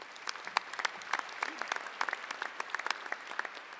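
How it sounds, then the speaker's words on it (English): Audience applause at a community college event near Lake Tahoe, a steady patter of many hands clapping with sharp individual claps standing out, moderately loud and continuous throughout with no talking. "Let's put one more applause there."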